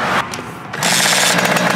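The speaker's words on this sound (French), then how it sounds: "On va essayer de démarrer une moto qui est complètement morte." A long-dead motorcycle engine sputters, then catches and roars loudly with a rough, rattling tone.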